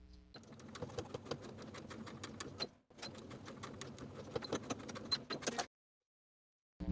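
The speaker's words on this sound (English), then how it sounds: "I'm going to stitch in the ditch of the side seams, just as far as the facing" Sewing machine running steadily as it stitches in the ditch along the side seams of a yoke and ruffle skirt, a dense rapid rattle in two long runs with a brief pause between, then stopping.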